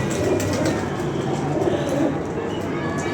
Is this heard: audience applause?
no